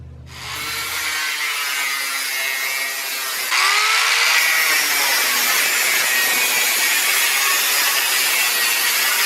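Sheet metal about four inches deep is cut for an angle grinder storage project, giving a loud, harsh, continuous grinding screech that starts abruptly and grows louder partway through, heard close up with no talking.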